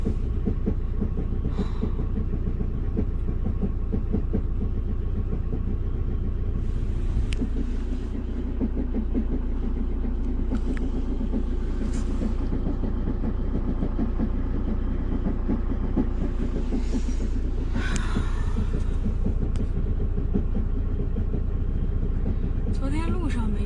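RV engine with an abnormal noise, running at night while the vehicle is parked, gives a continuous low droning rumble with an underlying vibration and occasional rattles and knocks over it.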